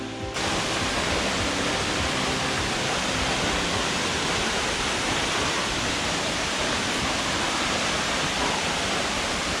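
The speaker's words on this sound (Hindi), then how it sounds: "ये है लवर्स लीप वाटरफॉल।" Lovers Leap Waterfall in Nuwara Eliya, Sri Lanka, a steady broadband rushing roar of falling water, loud and unbroken from start to finish.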